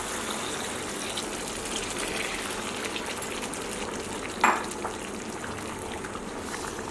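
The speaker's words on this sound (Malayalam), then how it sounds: "അപ്പം ഞാനിവിടെ രണ്ടാം പാൽ എടുത്ത് വെച്ചത് ഇതിൽ ഒഴിച്ചു കൊടുക്കാം." Second coconut milk poured into a pan while making ada pradhaman, a steady gushing liquid wash with one brief splash partway through, alone and close.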